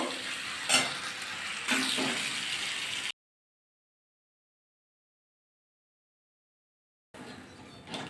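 A prawn and pointed gourd curry sizzles in a pan as it is stirred, with a couple of scraping spoon strokes, then a stretch of silence before the sizzle resumes.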